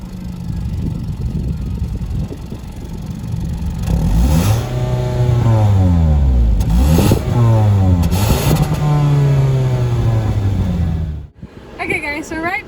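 A 2019 Toyota Camry XSE's 2.5-liter inline four-cylinder engine idles, then is revved repeatedly in quick rising and falling sweeps, loud and close, before cutting off abruptly.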